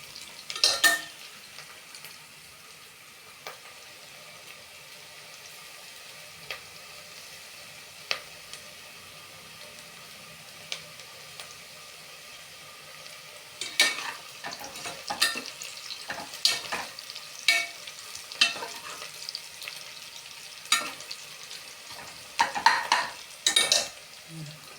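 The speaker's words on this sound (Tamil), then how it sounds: "வெங்காயம் நல்லா வதங்கணும்." Onions sautéing in a pan for chicken biryani, a steady low sizzle through the first half, then louder bursts of stirring and scraping against the pan in the second half, with no talking.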